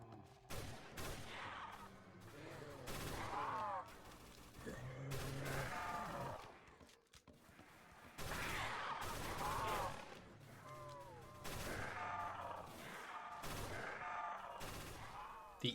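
Gunfire from an AUG A3 rifle in the Roblox game Project Lazarus. Dense automatic bursts come in long stretches, separated by short breaks, with reloading clatter and game sound effects mixed in.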